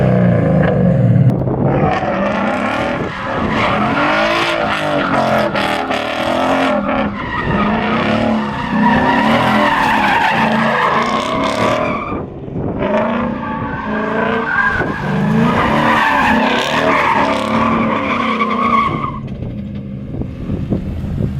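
A 2015 Ford Mustang S550 fitted with Flowmaster exhaust driven hard, with loud, sustained engine roar and rising revs across two long pulls, plus tire squeal and skidding noise, close up and with no talking.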